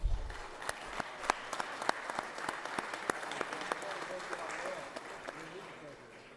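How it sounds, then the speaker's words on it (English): Georgia Senate chamber audience applauding a visiting youth leadership group: fairly faint, steady clapping with distinct individual claps ringing out over a low room murmur for several seconds. "Let's give them a round of applause."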